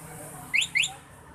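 Luminos A1 alarm on a Yamaha Mio M3 scooter, triggered by a forced ignition, gives two short, bright rising chirps in quick succession over a low background hum.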